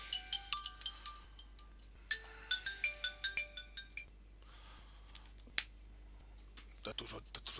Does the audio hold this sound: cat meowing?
no